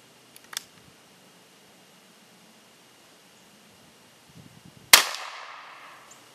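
A single sharp gunshot from a Circuit Judge revolver firing .45 Long Colt at a 50-yard range cracks loudly near the end, its echo trailing off after a mostly quiet stretch with a faint earlier click.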